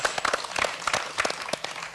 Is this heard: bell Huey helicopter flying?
no